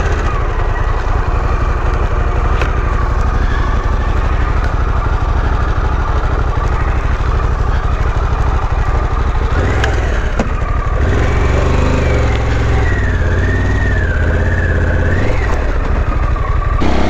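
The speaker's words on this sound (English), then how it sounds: "So just riding some really loose gravel here" A Harley-Davidson Pan America motorcycle riding over loose gravel, its engine droning steadily with a shifting pitch and a rev change near the end, loud and continuous with crunching texture from the surface.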